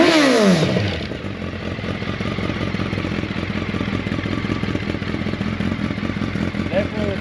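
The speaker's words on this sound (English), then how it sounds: "You ready to hear that exhaust," A 2014 Suzuki Hayabusa with an upgraded aftermarket exhaust rises briefly in a rev, then drops to a steady, throbbing idle nearby, running continuously while people talk over it.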